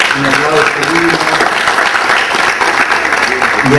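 An audience at a tribute ceremony for a university's first graduating class applauds loudly and steadily. Voices and cheers mix in with the dense clapping.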